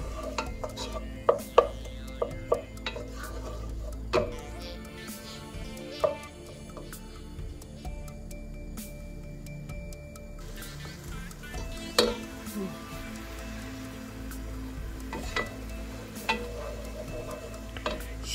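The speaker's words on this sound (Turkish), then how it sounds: "Soğanı 1-2 dakika kavuruyorum." Frozen onions sautéed in a pan, with a low sizzle under repeated clinks and scrapes of a utensil stirring against the pan, close and steady for the whole stretch.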